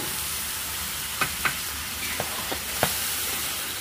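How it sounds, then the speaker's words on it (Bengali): Ground cashew, poppy seed and peanut paste sizzles in hot oil with spices, a steady frying hiss broken by a few soft stirring scrapes, close and alone with no speech. "এটাকে দিয়ে আমি খানিকক্ষণ কষিয়ে নেবো যতক্ষণ না এটা তেল ছাড়ছে"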